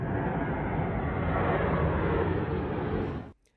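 A U.S. military aircraft on the tarmac at Kabul airport roars with a loud, steady broadband engine noise that holds constant, then cuts off abruptly near the end.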